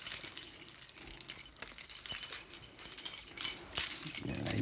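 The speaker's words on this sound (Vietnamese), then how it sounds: "Chìa khóa xe này." Car keys jangling in a bunch, a soft irregular clinking close by, with faint background noise throughout.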